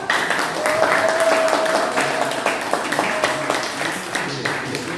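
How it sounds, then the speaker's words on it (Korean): An audience at a church meeting hall applauds to welcome a pastor, a bright, steady round of clapping with a faint tone humming beneath, lasting several seconds. "큰 박수로 함께 해주시기 바랍니다"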